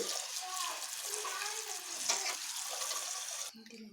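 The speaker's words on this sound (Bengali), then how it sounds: "এইভাবে ঝুড়ি করে এবার আমি ভালোভাবে ধুয়ে নিচ্ছি এগুলোকে" Pieces of wax gourd are rinsed in a basket under running water, a continuous splashing and trickling close by that stops abruptly near the end.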